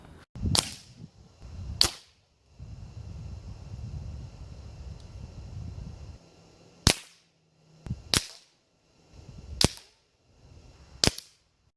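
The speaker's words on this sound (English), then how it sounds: "I'm gonna try to get a bullseye in all of these within 10 shots" A Nova Freedom PCP air rifle with built-in pump fires six sharp, loud shots at irregular intervals, each a crisp crack with a short tail, against quiet background rustle.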